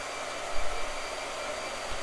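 A hair dryer runs steadily at close range, a constant broadband whoosh with a low motor hum holding even for about two seconds with no speech.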